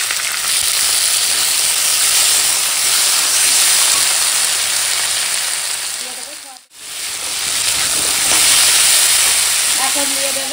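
Chopped tomatoes and a ground paste of ginger, garlic and cumin hit hot oil with fried onions and green chilies, giving a loud, continuous sizzle that drops briefly before picking up again.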